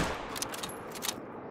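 A .338 bolt-action rifle fired while whitetail hunting in the Call of the Wild game, heard as a short run of sharp gunfire cracks, fairly loud with fading reports and no talk.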